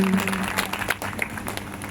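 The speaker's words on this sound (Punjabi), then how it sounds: "ਸਭ ਜਨ ਜ਼ੋਰ ਦੀ ਤਾੜੀ ਨਾਲ ਪਰਮੇਸ਼ਰ ਦੀ ਮਹਿਮਾ ਕਰਾਂਗੇ" A short burst of applause from a Christian worship gathering praising God, moderately loud and brief, with a faint steady tone underneath.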